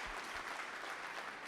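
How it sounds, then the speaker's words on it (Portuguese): Church congregation applauding at a worship service, a dense, steady wash of many hands clapping throughout, fairly close and even in level, with no clear voices. "dê uma salva de palmas a Ele"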